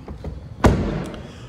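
A single dull thud as the rear door of a 2014 Audi A4 Quattro sedan is opened, a short solid knock heard up close amid quiet background.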